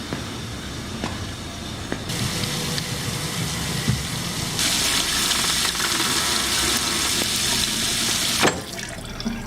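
A water tap runs on the second floor of a house in an A24 horror film scene, a steady rushing hiss that swells louder midway, with faint thumps and low rumble beneath.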